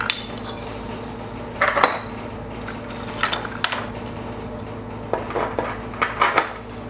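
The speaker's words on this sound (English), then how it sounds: "the next thing that you do, obviously, is just put your clamps on" Metal clamps set in place on a wood CNC machine bed: a few sharp clinks and clatters in separate bursts over a steady hum of background machinery.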